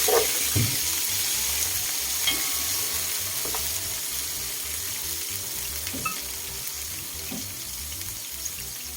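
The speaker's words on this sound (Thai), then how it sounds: "นี่น้ำมันมะกอกนะครับ แล้วก็ใส่พริกกระเทียมค รับ" Chili and garlic sizzle steadily in hot olive oil for a fish larb dish, a continuous close frying hiss with faint scattered pops and clinks, no voices.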